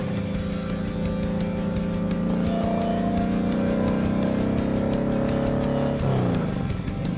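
A 1700cc motorcycle engine revs under throttle, a loud, close, sustained roar with rising and falling pitch and a sharp shift in tone near the end.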